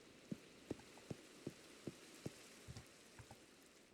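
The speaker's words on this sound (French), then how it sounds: "par contre, il pleut" Rain falls in the Minecraft video game, a soft faint steady patter with a series of evenly spaced dull thuds running through it.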